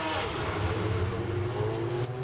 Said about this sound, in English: Listening to the cars revving up